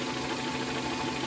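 A car engine with a faulty CMP camshaft position sensor runs at idle, giving a steady, close mechanical hum with a faint rough pulsing, brief and without speech.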